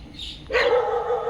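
A single dog's bark or yelp rings out close by, then trails into a sustained whining tone.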